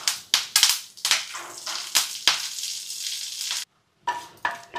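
Curry leaves dropped into hot oil for a tempering while making mint coconut chutney crackle and sizzle loudly in sharp bursts, then settle into a steady fry before a brief silence and a few more pops.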